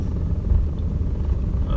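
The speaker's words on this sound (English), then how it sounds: "the road is little steep, so the car is giving a little jerk." Honda City ZX GXi car engine pulling slowly up a steep road in low speed, a steady low rumbling drone with slight surging, close and continuous with no talking.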